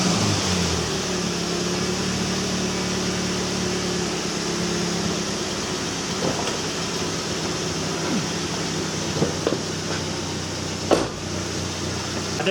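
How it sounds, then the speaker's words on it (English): A car engine runs during a fuel pump relay test, a constant close mechanical hum that stays even throughout, with a few faint clicks and a brief knock near the end. "let's crank up the engine."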